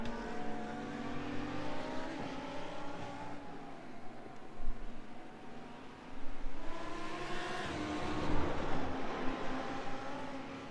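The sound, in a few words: GT race cars racing at Mid Ohio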